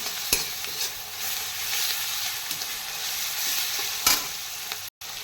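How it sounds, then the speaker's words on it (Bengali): Chicken pieces with garlic paste fry in hot oil, a steady close sizzle with occasional scrapes and knocks from stirring. "এটাকে তেলের সঙ্গে ভালো করে নেড়ে নেবো।"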